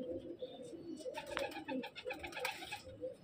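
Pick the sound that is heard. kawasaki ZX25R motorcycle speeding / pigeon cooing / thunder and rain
pigeon cooing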